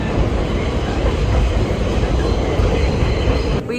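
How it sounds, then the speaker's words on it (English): A New York City subway train rides along with a loud, continuous rumble and rattle of wheels on track, a dense roar that fills the space and eases slightly at the end. "First time taking the train or the subway."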